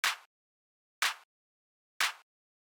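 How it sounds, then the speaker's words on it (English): A deep house clap sample hits three times, evenly spaced about a second apart, each a short bright snap with a quick decay, isolated with silence between. "the last thing that we have here is this clap"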